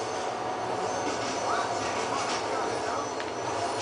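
Train rolling past in Grand Theft Auto IV, a continuous loud rumble with rail noise and faint squeal, steady throughout the short stretch.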